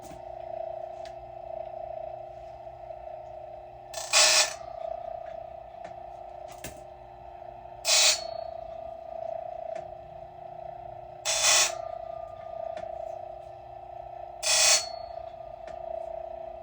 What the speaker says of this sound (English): We're going to touch it up with the Silvey raker grinder.